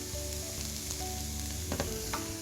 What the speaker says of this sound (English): The onions, mushrooms and pine kernels are nicely fried there, nice and brown.